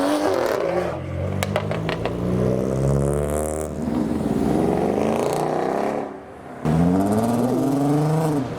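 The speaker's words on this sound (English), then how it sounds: "That was an R32 Golf on air." A modified R32 Golf on air suspension driving past at a night car meet in the city, a close engine note with rising and falling revs, a brief dip, then a loud surge.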